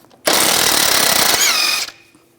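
Impact wrench spinning off a tie rod nut on a 2003-2008 Subaru Forester, one loud, close burst of rapid hammering rattle lasting about a second and a half, then cutting off abruptly.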